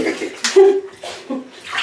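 Running water from a tap filling a bath for a ferret, a steady splashing flow close by, with people talking over it.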